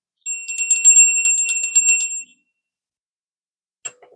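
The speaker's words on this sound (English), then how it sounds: "Ring that bell." A bicycle-style bell used as a sound effect rings in a quick run of bright metallic dings for about two seconds, then after a pause a single short ding sounds, all crisp, close and isolated against silence.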